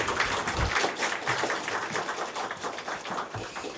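Congregation applauding at a church founding thanksgiving service, a steady run of crowd clapping lasting several seconds, fairly close and even throughout.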